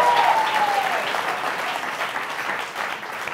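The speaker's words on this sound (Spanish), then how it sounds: "¡Un aplauso para el nuevo gobierno!" A crowd applauds steadily throughout, a dense wash of clapping that fades slightly toward the end.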